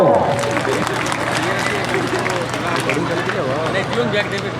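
Children applauding at an award event, a continuous wash of clapping blended with crowd babble while an adult voice speaks over it throughout.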